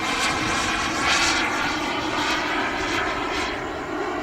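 A Flyfly Hobbies Viper 2.2 RC turbine jet flying, its engine a steady loud whooshing roar with faint high whine that holds constant throughout, no voices.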